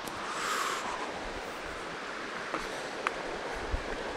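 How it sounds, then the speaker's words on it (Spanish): A swollen mountain stream runs high during a trek near La Cumbre, Córdoba, in April, giving a steady broadband rush of flowing water throughout with a few faint knocks and no speech. "El arroyo muy crecido."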